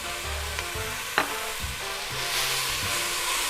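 Vegetables fry in olive oil in a pan, a steady close sizzle with a few soft clinks and stirring bumps, the frying noise swelling a little toward the end with no talking.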